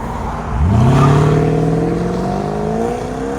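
A 2008 Mercedes S 550 5.5-litre V8 engine with modified exhaust revs up sharply from idle, the pitch climbing and then holding at a loud, throaty drone with no voices.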